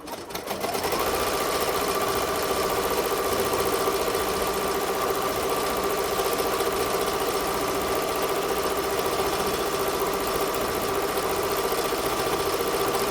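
A Ricoma EM-1010 embroidery machine stitches a faux patch, its steady, rapid mechanical whir and needle chatter starting within the first second and running loud and unbroken to the end, with no talking.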